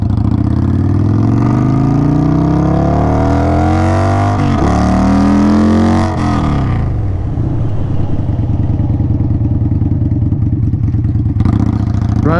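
A car accelerates hard and then slows to bed in new brakes, its loud, close engine note climbing steadily in pitch before falling away, then settling into a lower, rougher running drone.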